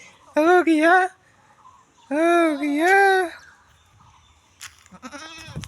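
A goat bleats loudly in two drawn-out, wavering calls while it is being washed at a Goru Bihu 2025 festivity, followed by a shorter, fainter bleat at the end.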